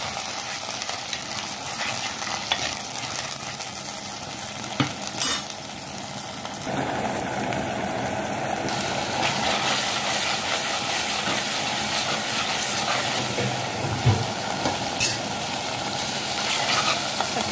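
Pounded spice paste for a coconut-free chicken curry dropped into a hot pan, a steady loud hiss and sizzle that rises as the paste hits the oil and then carries on, with faint clinks of stirring and no talk.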